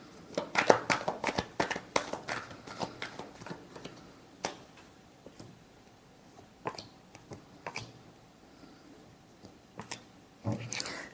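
Tarot cards being shuffled by hand, a dense burst of crisp riffling flutters up front followed by scattered sharp flicks and slaps, close and fairly quiet with no talking.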